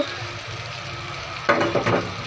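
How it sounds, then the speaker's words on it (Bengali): Pre-fried spleen is stir-fried in a spiced masala, a constant oily sizzle broken by a few louder scraping bursts of the spatula in the second half. "আর এইখানে হচ্ছে আমি ভাজা করে রেখেছিলাম তিল্লিগুলো, এখন দিয়ে দিব। এটাও ভালো করে একটু কষিয়ে নিব"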